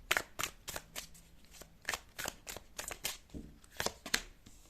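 A deck of tarot cards is shuffled by hand in quick, uneven riffling bursts, crisp and close, with brief pauses as cards are drawn.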